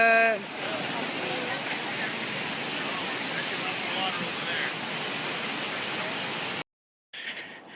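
Waterfall in the Columbia River Gorge near Mt Hood, a loud broadband rushing roar that holds steady, briefly preceded by a voice and cut off near the end before resuming.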